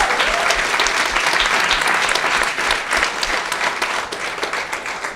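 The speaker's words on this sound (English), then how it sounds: "So give yourselves a round of applause." A crowd gathered for a community conversation event in San Francisco bursts into sustained applause, a dense, steady wash of clapping that holds loud for about five seconds, tapering only slightly toward the end.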